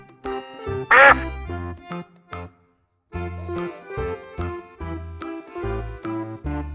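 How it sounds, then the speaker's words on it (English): A duck quacks in a run of loud, close, nasal calls that break off for a moment of silence and then start again in a fast, choppy series. "It's a duck. Ducks can swim and walk on land too."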